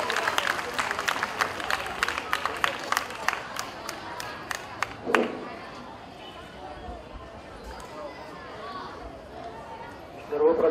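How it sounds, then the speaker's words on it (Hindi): Children at a school cleanliness and tourism event clap in a quick rhythmic burst that fades out, followed by murmuring crowd chatter and a short final flurry. "तालियां बजाइएगा बच्चों।"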